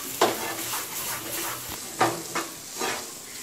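Carrot halwa being stirred in a pan over a medium flame, with a low steady sizzle and several soft scraping strokes of the spoon at irregular intervals, close up and alone.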